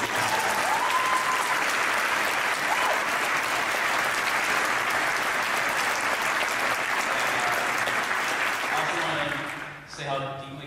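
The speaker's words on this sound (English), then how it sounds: "Give them another round of applause." Loud, sustained crowd applause for a community volunteer orchestra, the PSSO, fills the hall with a dense, unbroken roar of clapping for nearly ten seconds before fading, after which a speaking voice comes in.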